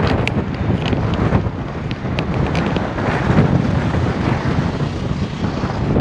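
Loud, gusty headwind buffets and roars across the microphone of a cyclist on a cycle path in Lanzarote, a continuous rough rushing noise that swells and dips without a break.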